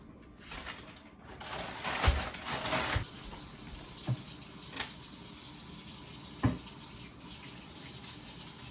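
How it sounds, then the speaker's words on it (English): Kitchen sink tap running as hands are washed clean of sticky meat, a faint steady water hiss with scattered clunks and splashes, quiet and close with no talking. "Get my hands washed."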